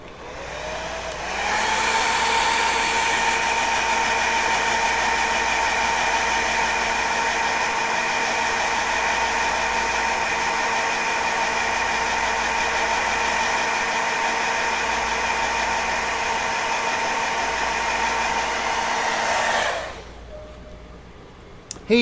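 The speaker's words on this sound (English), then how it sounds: "hit that with a hair dryer and speed that up a little bit" A hair dryer blows over contact cement on a hobby build. It runs as a loud, steady, close whine for about twenty seconds, then switches off abruptly.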